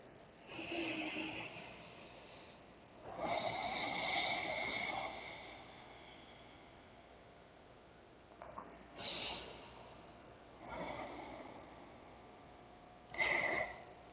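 Slow, deliberate breaths during a yoga session, several audible inhales and exhales spaced a few seconds apart, close and fairly soft against a quiet background.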